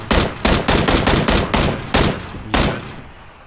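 A big gun firing in PUBG, a loud burst of about nine rapid heavy shots in uneven rhythm, trailing off into a short echoing tail.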